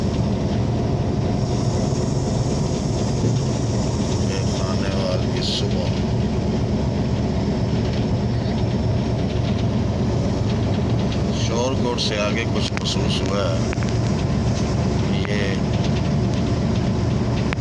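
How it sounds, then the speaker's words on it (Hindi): A train arriving near Shorkot, Pakistan rumbles past in a steady, loud, continuous roar, with someone talking over it. "आने वाली ट्रेन पहुंच गई है जी।"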